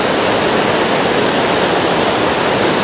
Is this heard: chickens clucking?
no